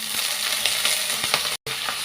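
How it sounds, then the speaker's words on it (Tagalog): Mushrooms sautéing in a hot pan for creamy pork with mushrooms, a steady loud sizzle with occasional stirring scrapes, close up and continuous, with a brief dropout near the end. "So igigisa natin itong mushroom."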